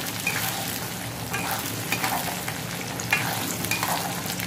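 Moong dal frying in oil with mustard seeds and bay leaf, a steady close sizzle with small crackling pops and occasional stirring scrapes throughout, no talking.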